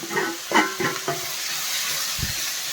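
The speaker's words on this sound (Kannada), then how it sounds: "ನಾನು ಟೊಮೆಟೊ ಹಾಕ್ಕೊತಾ ಇದ್ದೀನಿ." Tomatoes dropped into a pan of ginger-garlic paste for a soya chunks gravy, giving a few soft stirring clatters and a wet sizzle that settles into a steady low frying hiss, with no talking.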